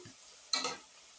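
A brief scrape and sizzle as onions for Ethiopian red stew are stirred in a pan, one short hissing burst amid quiet kitchen background.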